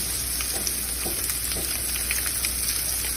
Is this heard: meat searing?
yes